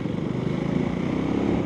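Husqvarna Svartpilen 401 motorcycle ridden over bumps, its engine a steady, close, continuous low drone with a slightly rumbling, uneven texture and no talk.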